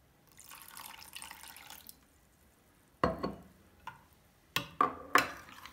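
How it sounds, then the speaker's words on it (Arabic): For Lebanese fatteh, a little water is poured into thick yogurt with garlic in a bowl: a soft trickle for about a second, then silence, then a spoon stirring and knocking against the bowl in a few sharp clacks. "فرح نضيف شوي مي"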